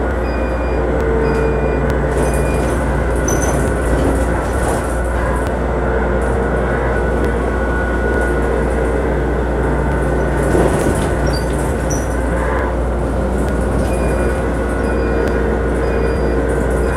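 A light rail train passes through a busy Kuala Lumpur city district, its steady rumble and rail noise filling the scene continuously with a slight swell near the middle, with no talk.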